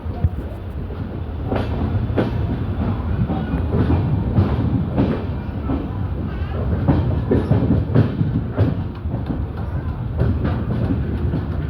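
The Pune–Kanniyakumari Express runs out of Thiruvananthapuram Central with a loud, continuous rumble and a steady clickety-clack of wheels over rail joints, heard close up from inside the train.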